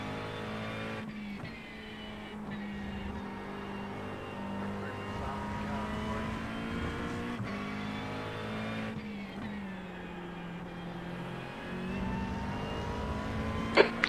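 Race cars lap a circuit, heard as a continuous close engine roar whose pitch climbs and drops with gear changes, with a short sharp knock near the end.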